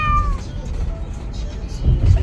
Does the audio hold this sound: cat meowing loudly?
yes